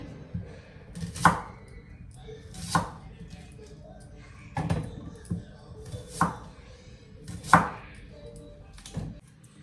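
A knife chops onions on a cutting board in slow, spaced strokes, about seven sharp thunks with quiet pauses between them.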